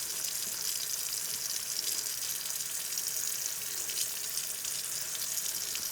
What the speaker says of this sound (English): Rinse all the soap out thoroughly.